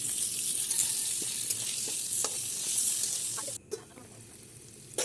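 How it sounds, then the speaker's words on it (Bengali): Diced potatoes coated in salt and turmeric frying in a little oil over low heat, a close bright sizzle broken by occasional stirring scrapes and clicks, cutting off abruptly near the end to a quieter hiss. "6 পিস আলুকে ডুমো ডুমো করে কেটে নুন এবং হলুদ মাখিয়ে হালকা তেলে লো আঁচে ভালো করে ভেজে নেব"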